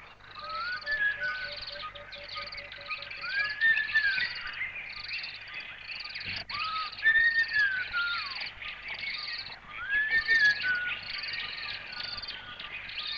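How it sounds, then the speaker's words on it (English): A Natal robin sings repeated whistled phrases and rising trills at a moderate distance, with pauses between phrases over a quiet thick-bush forest background. "the elusive little Natal robin, a dweller in thick bush and forest, often heard, rarely seen"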